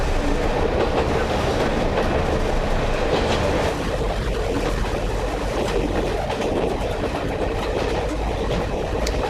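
Train running along a railway line toward Rawtenstall and Bacup, a loud continuous rumble with rhythmic clickety-clack of wheels over rail joints heard from on board, steady throughout.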